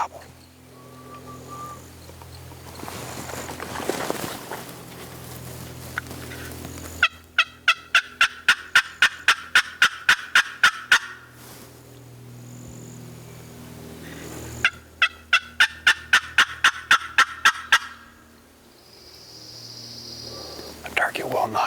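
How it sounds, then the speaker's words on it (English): Wild turkey in a Canadian spring woods gobbling twice, each a rapid rattling burst of about a dozen notes several seconds apart, fairly close and loud, with quiet whispered talk and rustling in the gaps. "Turkey just gobbled."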